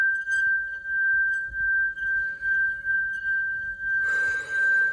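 A sustained, piercing high ring from a singing bowl holds steady throughout, with a brighter, noisier shimmer swelling in near the end.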